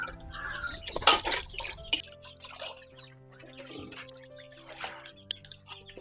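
Pieces of murrel fish are washed by hand in buttermilk with salt and turmeric, giving close, irregular splashes and drips of liquid, sometimes louder and sometimes sparse.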